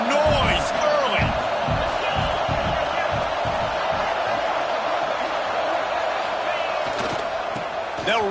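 A football stadium crowd at an Alabama game keeps up a loud, steady roar with scattered whoops, while a commentator talks over the noise throughout.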